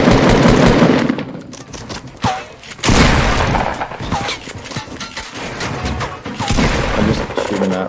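Rapid bursts of weapon fire from a Fortnite Season 4 battle royale match, loud and dense with short gaps, overlapping a player's continuous talk.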